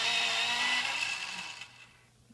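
A colored pencil is ground in a sharpener with a brief, close grinding whir that fades away over about two seconds, with no voices.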